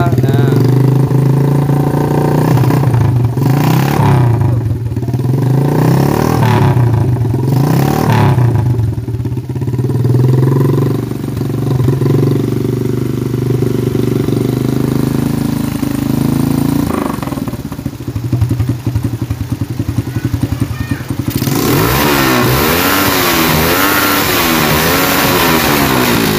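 A Suzuki Shogun motorcycle runs close by after a carburetor and CDI replacement, its engine revving up and down several times before holding a steady, loud idle. Someone speaks over the engine.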